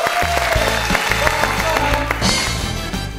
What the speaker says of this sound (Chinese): 掌声欢迎李爸爸！